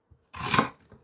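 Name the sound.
knife cutting a vegetable in half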